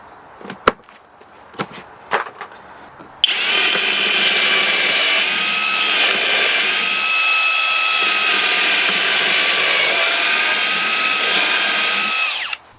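A HoTo cordless drill whines loudly and steadily as it drives into wood for about nine seconds after a few short knocks and taps, its pitch wavering as the motor bogs and stalls.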